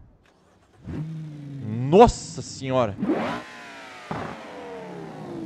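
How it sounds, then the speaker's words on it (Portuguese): An Aston Martin mod engine in BeamNG.Drive starts with a low idle, then gives two sharp rising revs before settling into a steady drone. A man's excited exclamation sounds over it. "Então vamos ligar o motorzão aí."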